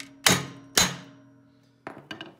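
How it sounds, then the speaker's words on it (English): A hammer strikes the end of a Tecumseh horizontal-shaft engine shaft to loosen the flywheel, with two loud ringing metallic raps followed by two quicker, lighter taps, close and alone. "we're just gonna take our hammer and give it a couple nice raps right here on the end of the shaft"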